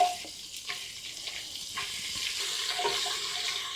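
Scallion, ginger and garlic sautéing in a pan over medium heat while being kept moving, a soft, fairly quiet sizzle that thickens into a steady hiss in the second half, with no talking.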